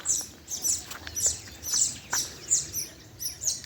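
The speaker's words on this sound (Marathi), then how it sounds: "सगळे सुगरण पक्षी बरं का" Repeated bright, high chirps from a group of baya weaver birds near a soybean field, coming in quick bursts about twice a second, moderately near with no talking.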